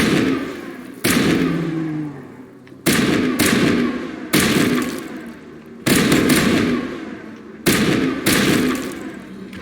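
High explosive rounds firing in Mass Effect Legendary Edition: about eight heavy booming blasts at irregular intervals, each a sudden loud thump followed by a rumbling decay.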